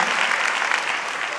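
Congregation in a church applauding, a dense, steady burst of many hands clapping together, loud and close, with no pauses.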